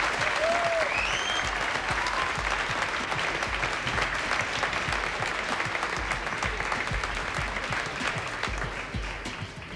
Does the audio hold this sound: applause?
yes